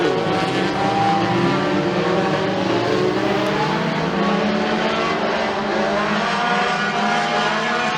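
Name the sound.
race cars accelerating at McKean County Raceway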